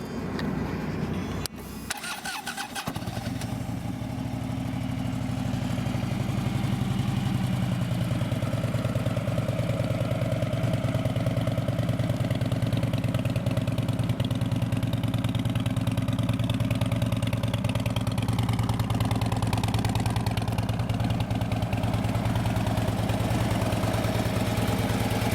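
A Harley Davidson Street Glide FLHX motorcycle with low miles starts up and settles into a steady, loud idle, its engine rumbling evenly and close to the microphone for over twenty seconds.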